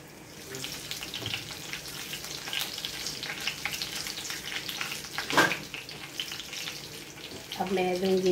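Whole red chillies and crushed green cardamom fry in hot oil with a soft, crackling sizzle, punctuated by a few sharper pops and a clatter near the end; faint voice occasionally in the background.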